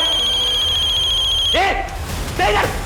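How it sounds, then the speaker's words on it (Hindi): A phone rings with a steady high electronic tone for over a second, then voices speak over the room. "किसका फोन बजा बे? किसका फोन बजा?"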